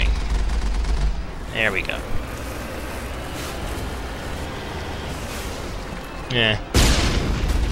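Gunfire from the Mass Effect video game, a couple of short rapid bursts of shots over a steady rumbling game background, with someone speaking briefly.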